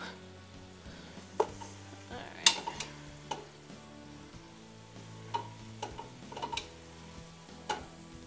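Meat and vegetables browning in a cooking pot, giving a steady low sizzle broken by scattered clinks and scrapes of a stirring spoon, close by, with no talk.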